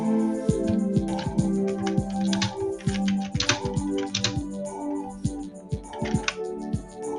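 A computer keyboard clacks in an uneven burst of close keystrokes while a name is typed during a Windows XP setup in VirtualBox, with a steady hum behind.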